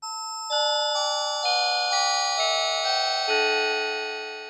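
A Kawai K1 II synthesizer plays an amplitude-modulated tone using the 7th harmonic: a bright, bell-like sustained sound stepping through several notes roughly every half second, clean and alone, fading at the end.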